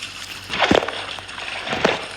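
Water sloshes and splashes across a flooded Brookhaven map in a video game, a continuous watery wash rising into two stronger splashing swells.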